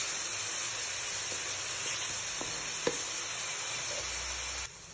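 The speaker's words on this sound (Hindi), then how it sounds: "अब इसको हमने अच्छी तरीके से भूनते रहना है जब तक इसका कलर चेंज ना हो जाए।" Onions frying in a pan over a medium flame give a steady, even sizzle and hiss, with a few faint stirring clicks, and no voices.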